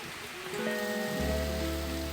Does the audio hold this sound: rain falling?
yes